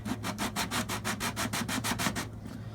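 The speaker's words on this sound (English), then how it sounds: "I'm just going to sand a little bit" Fine 220-grit sandpaper rubs on the wood of a 1937 Epiphone Triumph guitar in quick, regular back-and-forth strokes, about a dozen close scratchy passes before stopping.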